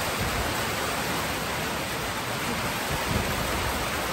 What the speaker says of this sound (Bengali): এই বৃষ্টির শব্দটা না